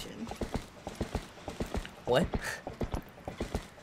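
Horse hooves clip-clop in a quick, even trot in Zelda: Twilight Princess, crisp repeated knocks near and clear, with a short whinny-like burst in the middle and a brief spoken word over it.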